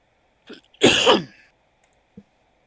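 One sharp, explosive sneeze sounds close by in a quiet room during a tabletop roleplaying session, with a small breathy intake just before and a faint sound shortly after.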